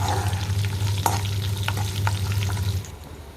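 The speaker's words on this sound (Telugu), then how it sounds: "ఆయిల్ అయితే బాగా ఫ్రై చేసుకోవాలి." Oil frying in a pan for jeera rice gives a steady close sizzle with a few utensil scrapes and stirring taps, loud and continuous until it suddenly drops away near the end; no one speaks.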